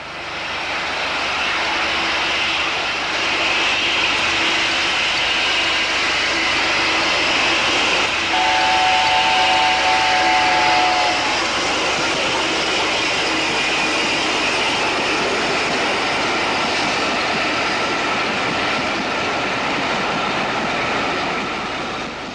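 The A4 steam locomotive Mallard departs a station on the East Coast line. A loud, steady, broadband roar of rail and engine noise runs throughout, with a brief whistle-like tone partway through.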